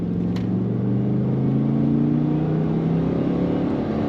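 A 2004 Pontiac GTO with an automatic transmission accelerates from inside the cabin, giving a steady, rising engine drone with a low, humming tone that stays loud and continuous throughout.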